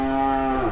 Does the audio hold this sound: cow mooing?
yes